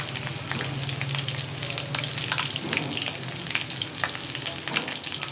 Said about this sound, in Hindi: मैं थोड़े से हस्बे ज़रूरत साग को ही तड़का लगा रही हूँ